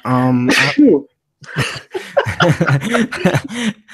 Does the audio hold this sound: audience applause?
no